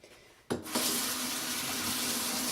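A tap switches on after a brief quiet moment and water then runs in a steady, fairly close rush for rinsing off a homemade sugar scrub, with no talking.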